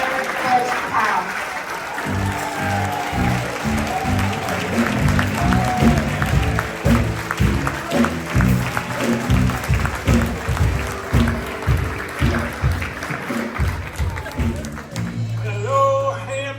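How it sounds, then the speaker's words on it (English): Sustained applause for Mr. Leonard Powell, the 2025 Legacy Builder, at a Hampton University gathering in New York, steady crowd clapping lasting throughout, mixed with music and voices. "Everyone, please give a round of applause to our 2025 Legacy Builder, Mr. Leonard Powell"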